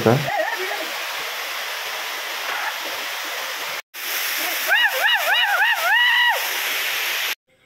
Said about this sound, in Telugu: మెల్లగా కిందకి దిగి వాటర్ ఫాల్స్ లోకి ఇక జారుకున్నాం ఫ్రెండ్స్.